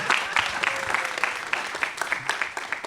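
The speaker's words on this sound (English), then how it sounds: "There's got to be more applause for that." A lecture audience claps in a brief, moderately dense burst of applause that tapers slightly toward the end.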